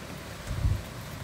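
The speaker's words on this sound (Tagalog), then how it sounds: "Ulan at hangin." Rain and wind from a typhoon in the Philippines make a steady broadband hiss, with one brief low gust swelling in the middle and no talking.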